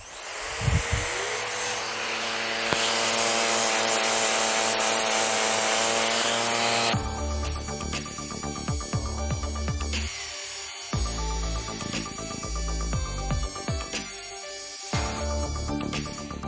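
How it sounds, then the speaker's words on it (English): Festool ROTEX eccentric sander running with a dust extraction system attached, a loud continuous motor whine and rasping drone throughout, changing character partway as the tool works the surface, with no talk. "We'll now see the difference in how well it works when the ROTEX is operated in conjunction with an extraction system."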